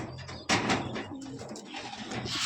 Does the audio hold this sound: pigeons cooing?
yes